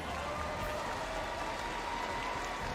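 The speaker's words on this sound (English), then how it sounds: "give Onic a big round of applause" A large audience at an M5 esports knockout stage event applauding and cheering, a dense continuous roar of clapping and crowd noise filling the hall.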